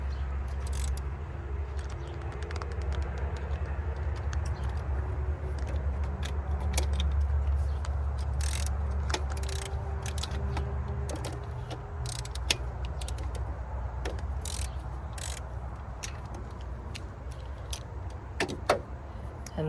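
A ratchet loosening spark plugs on a 4-cylinder engine, heard as scattered sharp clicks and metallic snaps over a steady low hum, close and moderately quiet.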